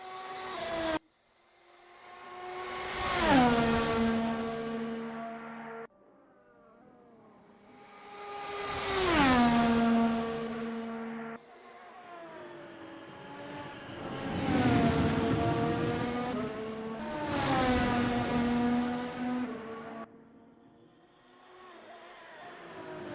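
Race cars in a video game climb the hill at Spa, each engine note rising in pitch through several loud upshifts, about four passes in sequence with no talk.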